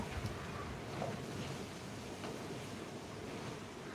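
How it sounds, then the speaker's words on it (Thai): Steady, faint roar of strong, cold wind mixed with the wash of surf on an Australian coast, continuous with no voices. "หนาวลมแรง"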